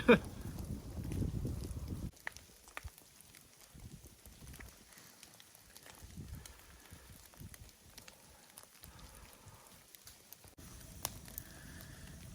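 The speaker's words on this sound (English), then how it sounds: "you can see the wind is whipping my flame around" Gusty wind buffeting a camp stove flame on a winter mountain trail in Linville Gorge, rough rumbling roars in uneven surges with intermittent crackles and faint knocks, close to the microphone.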